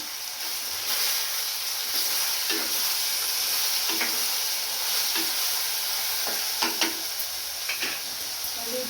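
Food sizzles steadily in a hot pan as salt is added and stirred in, a constant close hiss with scattered scraping and tapping of the spoon against the pan.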